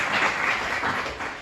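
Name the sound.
students applauding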